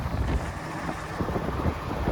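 Gusty wind buffeting the microphone in low rumbling bursts, rough and constant over the short stretch.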